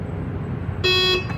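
A Tesla's power trunk gives a single short electronic beep while its height button is held, a clear tone near the microphone rising over a low background hum.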